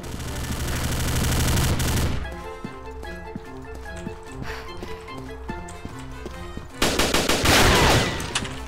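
Gunfire in the video game Combat Arms Reloaded, a loud sustained burst of automatic fire, then a quieter stretch with game music and clatter, followed by another heavy rapid burst.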